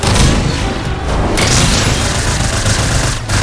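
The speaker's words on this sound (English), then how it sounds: "They're throwing nades." Loud, dense explosive blast from a grenade in the Fortnite video game, a heavy boom followed by rolling crackling rumble lasting a few seconds.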